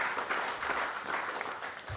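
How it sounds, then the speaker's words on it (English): An audience at a book launch event applauds with dense, steady clapping, fairly close and unbroken. "Another round of applause for Mr. Francis Leonce."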